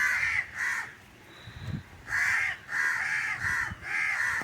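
Crows cawing close by, several harsh caws in short bursts separated by brief pauses, loud and clear with no talk.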